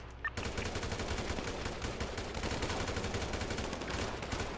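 Gunfire during a GTA roleplay heist: a dense, continuous crackle of rapid shots lasting several seconds, fairly steady in level and moderately distant-sounding, with no talk over it.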